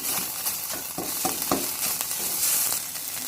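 Red curry paste for a Thai pork red curry sizzles loudly in a hot pan while being stir-fried, with a steady frying hiss broken by regular scraping stirs, close and without speech.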